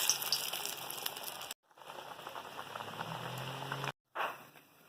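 Yam vada batter bubbling and sizzling in hot oil in a kadai, a steady dense crackle with brief pauses, close and fairly quiet with no talk.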